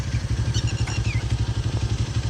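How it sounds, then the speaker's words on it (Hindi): A motorcycle engine runs close and loud with a steady, rapid low thudding pulse, and brief clattering and chirping noises break in over it. "यासिर भाई अभी बाइक चलाएंगे"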